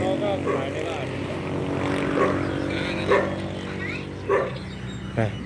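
A dog barks a few times, with short sharp barks spaced apart under ongoing talk and steady background noise on a street outside a shop.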